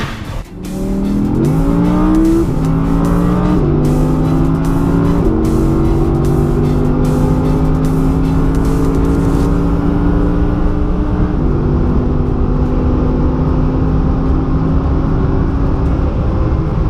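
An Audi race car on the 3.4-mile Circuit of The Americas revs hard through repeated upshifts of its dual-clutch gearbox, each gear climbing in pitch before stepping down, loud, close and continuous throughout with no talking.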